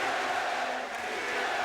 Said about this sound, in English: you hear the crowd is chanting to the Sixers, beat L.A. Beat L.A.,